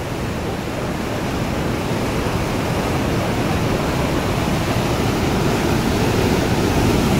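A powerful, swollen river current rushing under a bridge, a dense continuous roar of churning water, loud and steady throughout with no voices over it.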